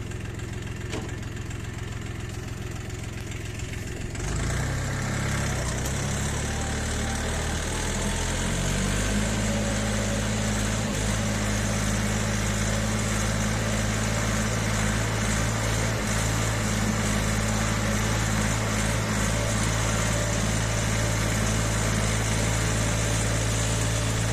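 A YTO 244 SX tractor pulls a homemade single-furrow plough in fifth gear. After a few quieter seconds its diesel engine settles into a loud, steady, close-up drone that continues unbroken to the end.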